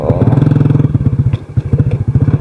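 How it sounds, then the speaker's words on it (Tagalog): A motorcycle rides along a rough track toward a large cross, its engine pulsing loud and close in a rapid steady chug with some clattering bumps. "So ito po yung motor natin pupunta dito"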